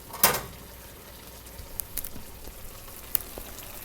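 Spinach wilts in a watery chicken-spinach stir fry, with a faint sizzle and scattered crackling pops over a low hiss in the pan.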